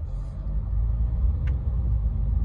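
Opel Zafira 2.0 CDTI diesel driving from inside, a low steady engine and road rumble with a brief click around the shift from first to second gear, no talking.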